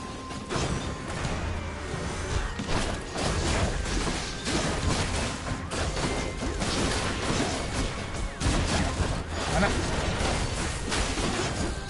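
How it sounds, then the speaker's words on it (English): Dense, continuous barrage of crashes and booming blasts in the game Hades, loud and chaotic, with whooshes layered throughout. "Explosions everywhere."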